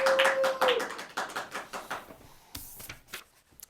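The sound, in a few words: audience clapping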